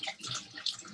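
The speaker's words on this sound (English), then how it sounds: "So then what I do is I just go ahead and rinse all this stuff off so that I can get any residue off of it." Tap water runs into a sink and splashes over machine parts being rinsed, making a close, bubbling, irregular wash of spatter that lasts the whole short moment.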